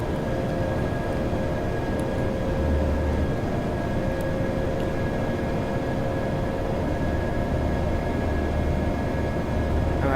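Steady, dense engine roar of an Airbus A320 in flight in Flight Simulator X, a constant broadband hum with faint tonal whine throughout.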